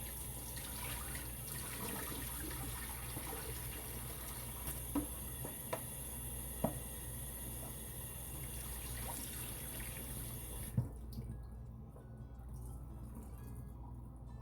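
Bok choy rinsed under running tap water, a steady trickling, splashing flow with occasional drips, close and continuous before the water stops near the end.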